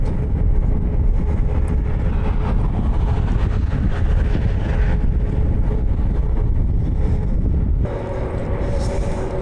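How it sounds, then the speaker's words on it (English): Desert wind blowing surface sand and dust in Saudi Arabia, a loud steady rushing buffet that roars on without a break for the whole stretch. "it's just a little bit of wind that carries the dust, the sand that is on the surface."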